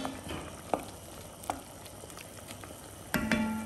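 Squid and potato pieces stirred in a pan give a soft bubbling fry with a few sharp utensil scrapes and clinks, including a louder clatter near the end, heard close and alone.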